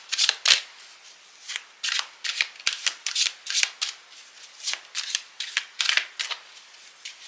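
Oracle des Miroirs cards being shuffled, a steady run of crisp riffling bursts, about two or three per second, close and clear with no talking.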